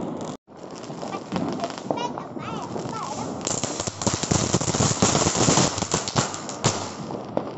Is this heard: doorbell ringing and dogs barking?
no